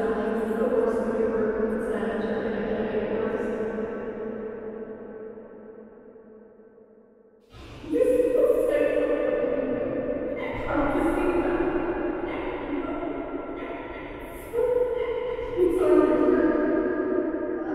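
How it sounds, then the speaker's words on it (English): A voice drenched in maximum reverb, long echoing tails smearing each tone into a washy, ringing cloud that swells and fades in phrases across a Metal Gear Solid 2 stream. "Let me turn up reverb to max."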